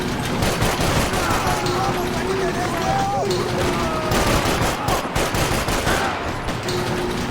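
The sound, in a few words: gunfire in the video game Max Payne 3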